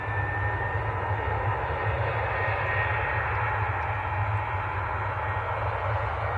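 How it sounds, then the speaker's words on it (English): Ryanair airliner rolling down the runway for takeoff at Manchester Airport, a constant heavy engine roar with a low rumble and a faint high whine, steady in level throughout and without talk. "Ryanair on the roll."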